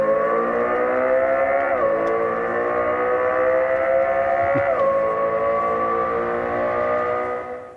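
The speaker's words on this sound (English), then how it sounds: "the Lexus LFA V10 sound simulation available on demand" A simulated Lexus LFA V10 engine note plays inside a 2027 Lexus TZ: a loud, sustained harmonic drone whose pitch drops at two points, as if through gear shifts, heard alone.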